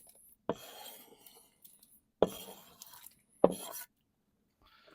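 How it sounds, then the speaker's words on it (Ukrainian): Potatoes are tipped into soup in a cauldron over an open fire outdoors, giving a few clattering metallic knocks and splashy scraping bursts against the pot, fairly faint and close, with quiet gaps between. "Додаємо нашу картоплю."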